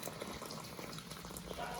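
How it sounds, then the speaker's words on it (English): Boiling water from a DeLonghi kettle poured slowly into a pan of cuttlefish and rice, a faint, steady gurgling splash with bubbling texture, heard close and quiet with no speech. "And now I'm going to add the boiling water"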